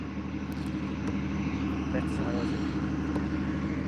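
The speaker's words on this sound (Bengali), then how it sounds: "এখানে ড্রেজার মেশিন দিয়ে নদী খননের কাজ চলছে" A dredger machine's engine drones steadily while digging sand from the Brahmaputra riverbed in Mymensingh, a continuous low, rumbling hum heard from a moderate distance with faint outdoor noise over it.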